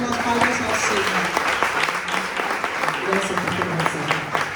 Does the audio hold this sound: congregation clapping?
yes